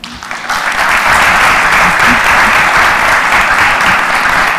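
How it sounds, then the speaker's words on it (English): A conference audience at Invest: Miami 2019 claps loudly for the table sponsors, building quickly from a scattered start into steady, close, sustained applause. "Please give them all a round of applause."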